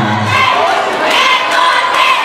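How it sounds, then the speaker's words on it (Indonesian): Crowd at a school poco-poco dance competition, loud sustained cheering and shouting with applause mixed in, dense and close, with voices rising over the noise. "beri tepuk tangan dulu dong ya"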